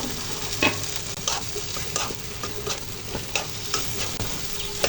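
Tomatoes stirred into spice paste in a hot pan for a small gutum fish bhuna curry, with steady sizzling and repeated scraping strokes of a spoon, close and alone.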